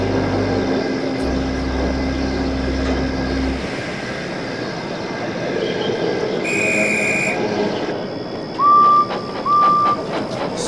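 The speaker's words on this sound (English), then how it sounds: "Edward's train was due." Train sound effect with a steady rumbling roll of railway wagons, then a loud, clear whistle sounding in two bursts near the end; no talking.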